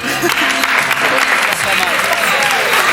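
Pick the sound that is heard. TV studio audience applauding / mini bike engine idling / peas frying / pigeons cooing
TV studio audience applauding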